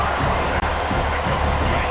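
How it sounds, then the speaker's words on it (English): Stadium crowd cheering in the video game College Football 26, a steady wash of massed voices rising around the defense in the red zone, with a play-by-play voice running over it. "the crowd coming to life here, trying to help this defense down in the red zone"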